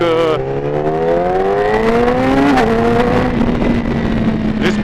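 A 2017 R6 motorcycle engine fitted with an exhaust baffle drones loudly throughout with rising harmonic pitch as it revs up, then holds a high buzzing tone; a voice is faintly audible underneath.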